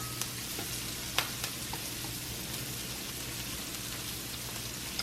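Crab and onions frying in a pan give a steady, close sizzle with crackling pops throughout, with no voices over it.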